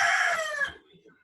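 A rooster crows loudly through a student's open microphone during an online biology class. The crow is close and slightly distorted, then cuts off abruptly into near-silence.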